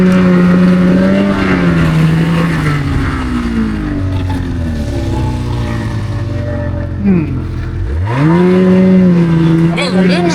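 A 2026 Ski-Doo Summit-X Expert snowmobile rides through snow, its engine whining loud and close and rising and falling in pitch as the throttle changes, with a sharp dip before it revs back up.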